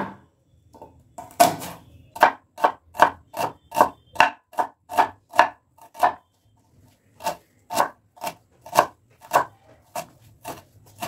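An onion is finely sliced with a knife on a board: a long run of sharp, evenly spaced cuts, close and crisp, with one brief pause partway through.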